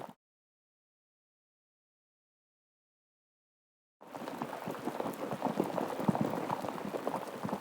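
Silence for about four seconds, then steady rain starts abruptly, a dense patter of drops hitting a surface that continues to the end.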